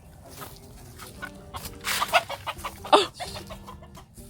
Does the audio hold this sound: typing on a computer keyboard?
no